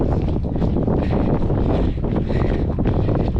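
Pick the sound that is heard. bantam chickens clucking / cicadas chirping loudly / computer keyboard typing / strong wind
strong wind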